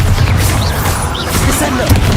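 Spell combat in Hogwarts Legacy, with a loud booming blast from the Bombarda spell amid continuous rumbling battle noise and crashing debris. Voices shout over the dense, sustained clamour.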